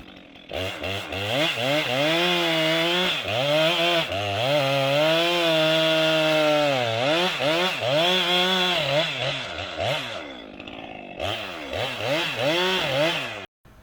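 A chainsaw roars close by as it cuts a tree, its engine pitch rising and falling steadily as it bites through wood for several seconds before cutting off.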